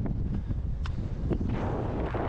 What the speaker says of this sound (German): Jetzt ganz klar auch zu fühlen, mit jedem Meter, den ich hier höher komme, nimmt der Wind zu.